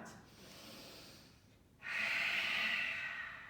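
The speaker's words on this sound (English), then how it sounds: "audible breath out" A strong, audible exhale during a yoga session follows a softer inhale, a close, breathy rush of air that swells and then slowly fades.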